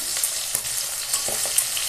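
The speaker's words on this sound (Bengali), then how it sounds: "দেখো মাছগুলো হালকা করে ভেজে নিয়েছি" Hilsa fish frying lightly in hot oil gives a steady, close sizzle with brief crackling pops and faint stirring clinks throughout, with no voices.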